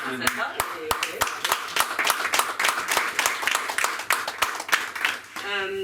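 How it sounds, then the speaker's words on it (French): A small audience claps in a room during a local political debate on intercommunal taxes at La Péniche, a run of distinct, fairly close hand claps that ends as a voice begins to speak. "Il faut l'applaudir"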